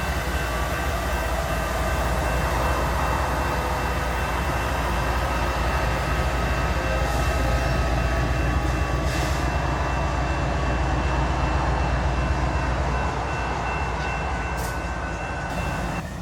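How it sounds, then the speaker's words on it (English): A BNSF grain train pulls in, a loud, steady low rumble and rolling wheel noise that stays close for the whole stretch, with a few faint higher squeals and no voices. "we'll catch this BNSF grain train pulling in"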